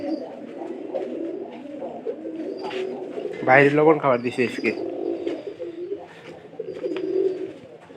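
Domestic pigeons kept in a home loft coo in soft, repeated low calls that continue throughout, while a person talks nearby over them.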